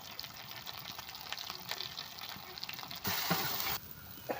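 Masala with salt and turmeric fries in oil in a pan for a raw jackfruit curry: a continuous close sizzle with faint stirring, swelling into a louder, brighter burst of frying near the end, no voices.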